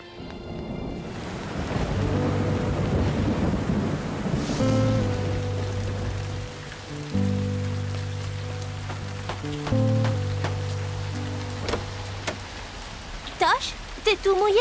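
Rain falls in a steady hiss while thunder rumbles, with sustained musical tones playing over the storm and sharp crackles near the end.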